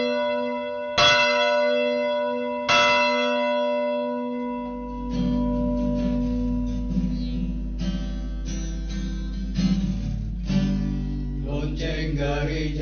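Two ringing bell strikes, church-bell style, open a Sunday worship service in a church, each tone sustaining and decaying before an instrumental accompaniment with a steady low drone comes in.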